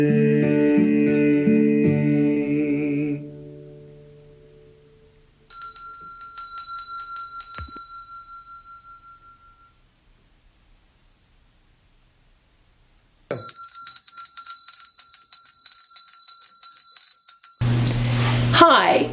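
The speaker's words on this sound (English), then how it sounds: "Is that a bell I heard?" Bells ring in clear, bright strikes that sustain and fade, with silent gaps between bursts, ending in a louder noisy passage.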